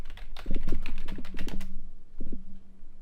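Fingers tap rapidly on a computer keyboard, making a quick run of crisp, close clicks. After a short pause, a couple of final keystrokes follow over a low steady hum.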